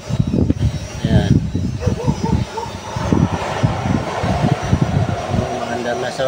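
A clothes dryer runs after its motor and capacitor were replaced, giving a loud, steady motor hum and whir close by, with someone talking over it throughout.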